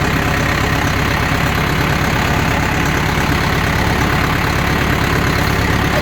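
A tractor engine idles steadily close by in snowy bush country, a loud continuous low rumble with a fast, even knocking pulse and no voices.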